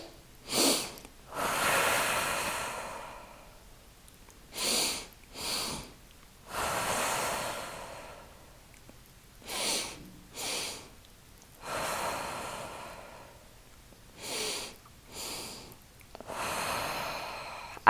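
Deep stress-relief breathing exercise: long, loud inhales and exhales repeat in a slow, steady rhythm, each breath a broad rushing whoosh close to the microphone, with short sharp sniffs between, and no talking.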